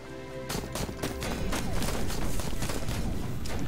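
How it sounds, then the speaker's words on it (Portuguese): Gunfire in the video game Moods, from a robot with a gun exploring dungeons: a dense, continuous run of sharp shots and impacts, loud and steady, without any talking. "eu tomo tiro a hora que eu passo ali"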